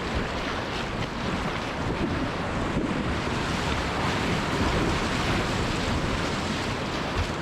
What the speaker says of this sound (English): Look how it goes over those waves.